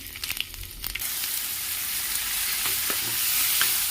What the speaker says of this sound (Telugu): ఇప్పుడు మిగిలిన తాలింపులన్నీ వేసుకుని ఫ్రై